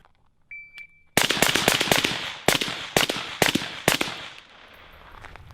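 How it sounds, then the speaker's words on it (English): A rifle fires eight rapid shots at 7 yards after a beep, four rounds into each of two targets, with a brief pause between the two groups. The reports are loud, sharp and close. "For this, I'm going to do 4 rounds into each, and I will do it at 7 yards."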